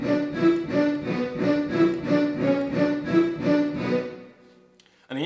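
A theme plays in single time on a loud, sustained ensemble, a steady pulsing repeated figure of even beats for about four seconds before it drops away to near silence.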